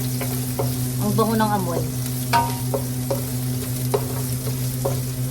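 Ginger sizzles steadily in a hot pan while being stirred for chicken tinola, a loud continuous frying hiss with occasional utensil clicks as someone speaks briefly.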